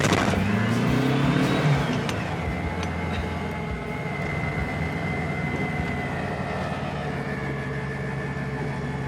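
Car engine on a drive pulling hard and revving up past 3,000 rpm, a loud sustained roar with a rising pitch that settles into a steady high drone, heard alone without talk.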